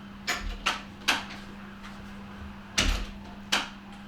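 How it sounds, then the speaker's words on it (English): A front door into a Cricklewood studio apartment is opened, with a handful of sharp knocks and clunks from the latch and frame spread out over a steady background hum. "So as we enter through the front door,"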